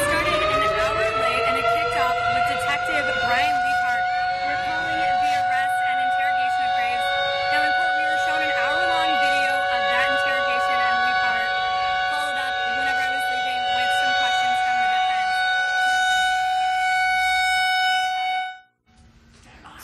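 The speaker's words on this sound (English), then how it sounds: "once the monthly siren check has finished up for the month" A monthly civil defense siren test wails loudly and steadily for most of the stretch, a sustained multi-tone outdoor siren that cuts off abruptly near the end.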